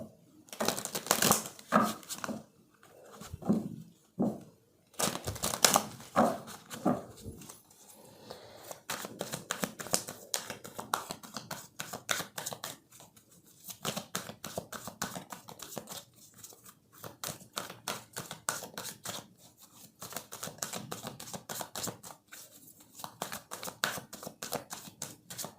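Tarot-style cards are shuffled for a reading in bursts of rapid, crisp riffling and flicking, near and fairly quiet, with short pauses between runs.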